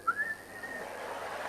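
A stand-up comedian whistles, imitating the whistles of a mourning woman: a single thin, sliding whistle tone that rises then holds and fades over a second and a half, with no talk.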